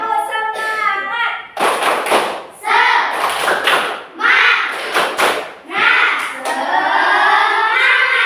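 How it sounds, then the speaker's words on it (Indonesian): A class of children in a school lesson chants and claps a rhythmic spirit clap together, loud patterned bursts of hand claps and thumps mixed with shouted group voices. "Tepuk semangat."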